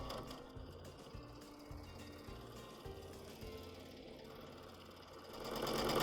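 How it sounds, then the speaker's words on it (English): A sewing machine stitches a quilt-as-you-go tiger applique, its low mechanical chugging running in short bursts with pauses, quiet and close, without speech. "now I'm going to spin around and I'm going to sew back, crossing over the line again with wavy"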